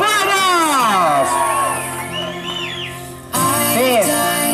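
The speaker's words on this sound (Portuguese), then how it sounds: "Uma salva de palmas, galera!" A family crowd at a surprise celebration in São Paulo's east side whoops, shouts and cheers loudly, with children's high-pitched yells and excited voices rising and falling before a fresh burst of cheering near the end.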